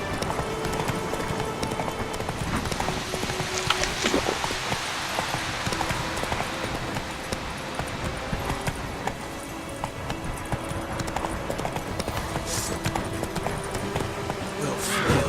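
Hooves of the horse Roach galloping in The Witcher 3, a steady fast clip-clop under dense battle noise and shouting voices, loud and continuous.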